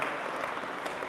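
Audience applause at a poetry and song event, a steady dense patter of many hands clapping at moderate volume, brief and continuous.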